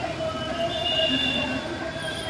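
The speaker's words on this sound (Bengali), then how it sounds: "ওই যে সব সব গাড়ি টাড়ি দেখা যাবে, ট্রেন দেখা যাবে" A train rolling along a railway line gives a steady rumble with high metallic wheel squeals drawn out above it, heard from a short distance.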